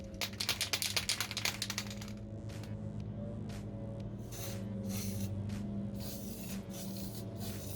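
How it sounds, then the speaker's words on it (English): A spray paint can of black paint rattles with quick shaking clicks, then several hissing bursts of spray follow over a steady low hum, close by. "give it its first coat of black paint"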